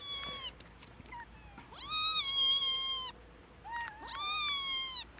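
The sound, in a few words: cats and kittens meowing over a beef chew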